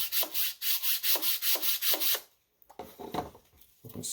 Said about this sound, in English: hit it with some sandpaper